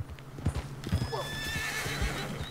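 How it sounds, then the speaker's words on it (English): Horse in Red Dead Redemption 2 clopping with hooves on the ground, then letting out a whinny partway through, heard close amid faint game ambience. "Shut up, stupid horse."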